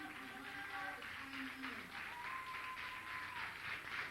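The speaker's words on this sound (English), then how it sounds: "Fans giving these guys an ovation. Well-deserved ovation." Wrestling fans at an indoor show applaud in a steady, fairly distant ovation that lasts the whole stretch, with a commentator talking over it.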